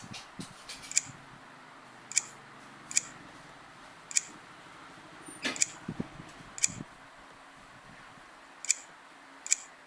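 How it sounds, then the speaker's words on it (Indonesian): Keys click on the built-in keyboard of an Asus X455L laptop as a password is typed, in sparse, separate taps spread over several seconds against a quiet background hum. "Kita masukkan password menggunakan keyboard internal."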